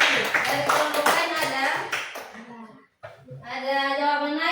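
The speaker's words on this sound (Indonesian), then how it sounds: "tepuk tangan untuk Putra." In a classroom, a brief burst of clapping for a student mixes with children's voices, then stops. Speech continues after a short pause.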